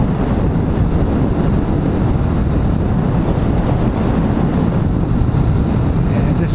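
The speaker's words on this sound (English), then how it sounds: "riding with sustained winds on my chest" Heavy, constant wind roar buffets the microphone while riding a Kawasaki Vulcan S motorcycle on the highway up a mountain in sustained winds. The roar is loud, dense and low, never letting up, and a voice is faintly buried beneath it.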